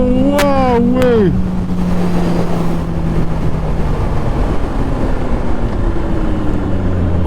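Honda CBR RR motorcycle engine running at half throttle, a steady loud drone with a sharp rev rising and falling early on, under continuous wind rush and people talking.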